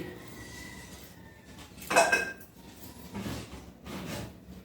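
Plates, frying pans and casseroles clatter as they are handled during a school cleanup, with a few scattered clinks and knocks, the loudest near the middle, against a quiet background.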